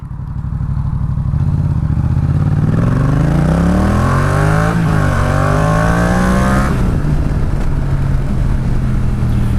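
A motorcycle fitted with a dB killer baffle in its exhaust revs up through the gears nearby on a test track, its exhaust note muffled and droning as it accelerates, steady and loud throughout.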